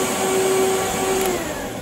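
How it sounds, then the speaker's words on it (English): A dust extraction vacuum beside a wood lathe runs with a steady, loud whine and an even hum, continuous and close with no other sounds. "we need to make sure that the vacuum is on"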